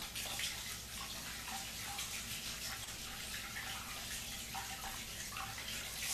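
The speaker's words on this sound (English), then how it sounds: "I need to rinse my hands." Water runs steadily from a tap as hands are rinsed after handling fish head soup, a continuous broadband splashing hiss held at an even level throughout, with no talking.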